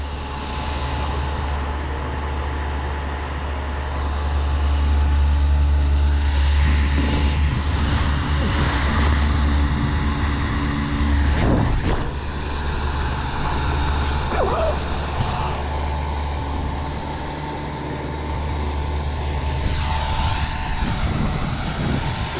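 Strong wind blows outdoors with a continuous, heavy low rumble of gusts buffeting the microphone, swelling and easing throughout without pause.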